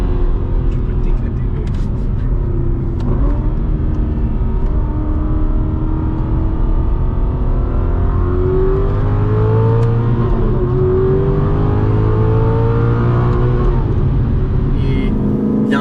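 An Aston Martin V8 Vantage S engine drones steadily under load, its pitch rising and falling through gear changes as the car corners. Someone talks over the constant, loud mechanical roar.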